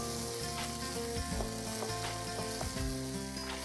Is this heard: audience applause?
no